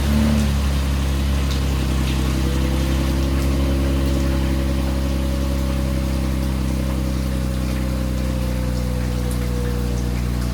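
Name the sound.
cold start of Infiniti Q50 engine with stock lower downpipes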